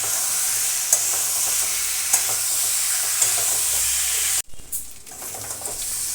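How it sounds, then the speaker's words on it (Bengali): Spice paste and fried potatoes are sautéed in a pan for a rohu fish head curry, a steady sizzle with spatula scrapes and knocks that suddenly drops away, leaving a quieter, fainter bubbling hiss. "এবার আলুর সাথে মশলাটা আমি আবার ভালো করে কষিয়ে নেব।"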